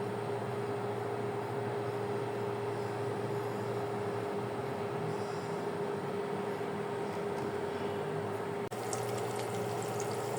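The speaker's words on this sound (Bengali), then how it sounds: "আমি যে ডোনারগুলো দিয়ে দিব এটা হাই হিটে ভাজা যাবে না" Homemade doughnuts fry in oil in a pan over gentle, not high, heat, giving a steady, even bubbling hiss that holds for the whole stretch with no talking.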